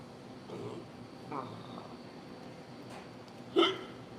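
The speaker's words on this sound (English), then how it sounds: "hiccups" A man eating a deli sandwich gives a few quiet hiccups spread over several seconds. The last one is a sharper, louder catch, and it comes against a faint, hushed room background.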